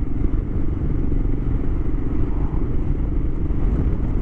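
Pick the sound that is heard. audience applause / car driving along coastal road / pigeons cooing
car driving along coastal road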